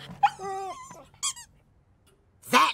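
A cartoon dog from the animated Mr. Bean series gives short high squeaky whimpers, two brief whines separated by a pause, then a sharper yelp at the end, with no talking.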